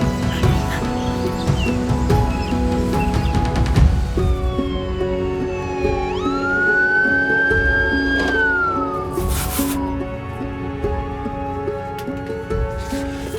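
An ambulance siren in a French drama series rises and holds a long wailing tone, fairly loud and close, sweeping up and then falling away over a steady background of music or rumble.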